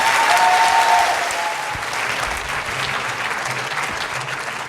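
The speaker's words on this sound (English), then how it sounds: "Applause for just showing up." An audience at a university lecture event applauds steadily and loudly throughout, a continuous wash of hand clapping with no speech over it.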